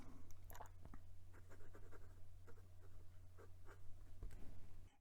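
A Moonman C3 fountain pen with a fine nib scratches softly across paper in close, faint strokes over a low steady hum, with small ticks where the nib lifts and touches down.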